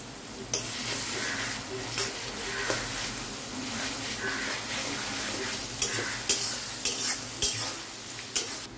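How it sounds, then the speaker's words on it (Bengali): Onion fries in a pan with garlic added, a constant sizzle broken by repeated sharp clinks and scrapes of a spoon stirring against the pan. "পেঁয়াজটা ভাজা হয়ে গেছে, এবার রসুন দিয়ে দেব।"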